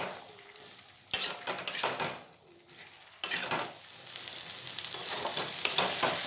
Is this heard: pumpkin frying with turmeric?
yes